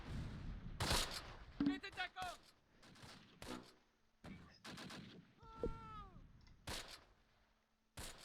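Cannon fire in the video game Close Combat sounds as several sharp booming shots spaced irregularly, with other brief bangs and game effects between them and a voice speaking in places.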